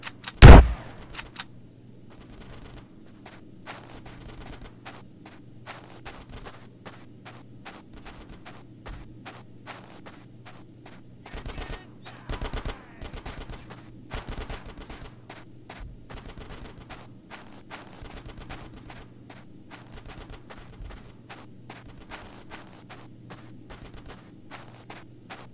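Gunfire in the video game GTA San Andreas, sharp automatic bursts and single shots crackling repeatedly over a low game hum, with a loud volley at the start and scattered rapid fire throughout.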